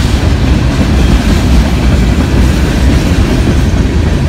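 A long freight train rolls past close by, its steady loud rumble and continuous clickety-clack of wheels on rail joints filling the whole stretch without a break.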